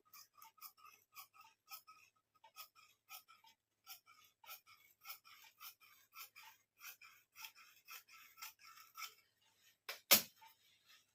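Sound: scissors cutting blouse fabric

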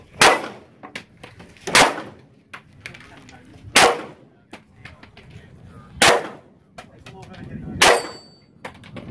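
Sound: gunshots from a 3-gun shooting stage

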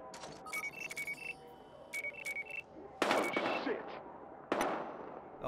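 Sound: gunshots in a video game

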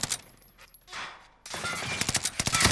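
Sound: gunfire while shooting in a video game

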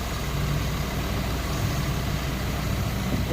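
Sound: vehicle engine as the car slowly moves off at night

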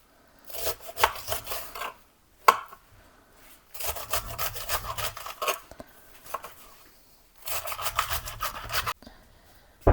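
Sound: chopping young cabbage for salad

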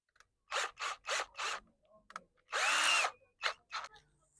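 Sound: screwdriver tightening a steering wheel assembly

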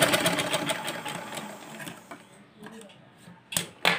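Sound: sewing machine stitching a blouse

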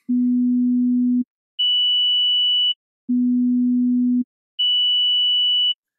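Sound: sine wave test tones at 400 Hz and 3000 Hz

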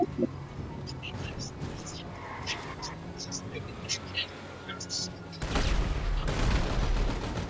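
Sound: drive-by gunfire in GTA 5, a video game

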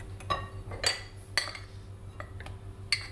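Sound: stirring semolina and flour mixture in a pot

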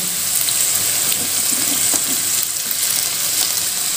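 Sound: garlic, carrot and cabbage stir-frying for Hakka noodles

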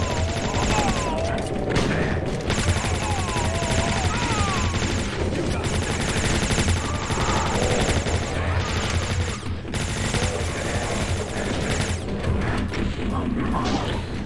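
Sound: gunfire in a video game

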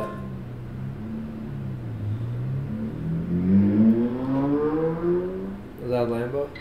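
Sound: sports car revving, Lamborghini or Ferrari, in played video

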